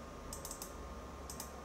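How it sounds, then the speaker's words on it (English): A computer mouse clicked quietly in quick succession twice, then again about a second later, faint sharp ticks over a steady low hum. "I'll double click."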